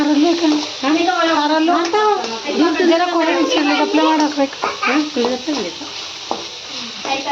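Green chillies and garlic fry in a little oil for mint chutney, giving a steady sizzle with stirring scrapes under continuous talking.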